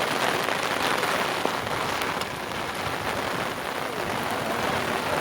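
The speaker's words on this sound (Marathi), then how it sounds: "आजची पावसाची" Steady rain drumming on a surface close by, a dense even patter of drops that continues unbroken with no voices.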